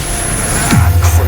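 A Confringo spell cast in the video game Hogwarts Legacy: a bright whoosh sweeps downward into a steady low droning hum, loud and close over a busy game background.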